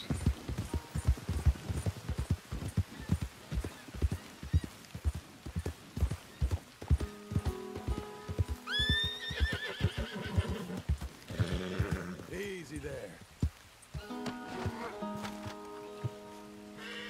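A horse clip-clops at a steady rhythmic gait in Red Dead Redemption 2, hooves close and distinct before a loud whinny and snorting near the middle, followed by slower steps under quiet game ambience.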